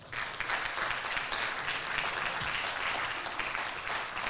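Steady applause from an audience at a school fall sports awards ceremony, a dense, even clatter of many hands that holds at constant loudness for several seconds with no voices over it.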